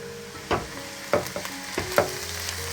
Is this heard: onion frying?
yes